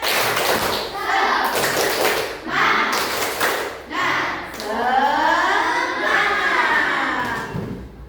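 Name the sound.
children doing a 'tepuk semangat' rhythmic clapping ice-breaker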